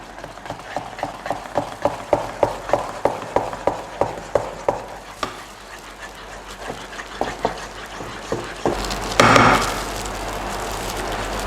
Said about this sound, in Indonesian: Kembali kita aduk rata.